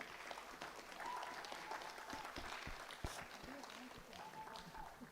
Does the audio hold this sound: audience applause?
yes